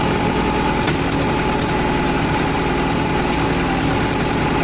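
Lotus 907 engine idling just after starting: a steady, loud, continuous mechanical drone with even rhythmic firing and a broad rumble, no voices.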